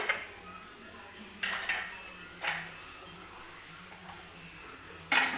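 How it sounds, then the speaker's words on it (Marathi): A steel pressure cooker lid, whistle removed, being set and fitted onto a cooker of dhokla batter resting on a rack in a kitchen, giving a few sharp metallic clanks and taps spaced over a few seconds against a quiet background. "आता वरती मी झाकण लावून घेणार आहे कुकरचं."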